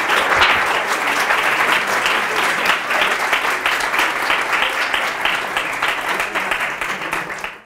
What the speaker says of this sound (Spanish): Por favor, un aplauso y disfruten.